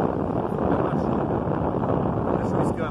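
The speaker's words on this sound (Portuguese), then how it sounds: "virou a ventania aqui, um tempo doido, ó. Mais forte ainda de quando a gente chegou." Strong, gusty wind at the seashore during a fishing trip, a loud continuous broadband roar battering the microphone for the whole stretch, with no clear pauses.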